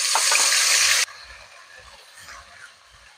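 Ground spice paste hits hot oil tempered with bay leaf and cumin for a Bengali cauliflower and potato curry, giving a loud, brief sizzle for about a second that drops to quiet bubbling with faint stirring.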